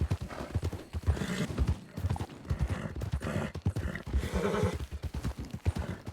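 Rhythmic clip-clop of a horse's hooves in a video game, steady and close, with an occasional whinny over a busy game soundscape.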